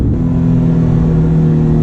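Porsche 997.2 GT3 RS with its flat-six engine, a loud, steady droning hum close by that holds an even pitch briefly, with no voices.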